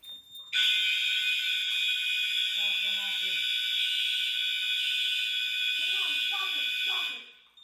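A Wheelock 7000 fire alarm blares a loud, continuous high-pitched electronic tone for several seconds, starting abruptly and cutting off near the end, with people talking briefly underneath.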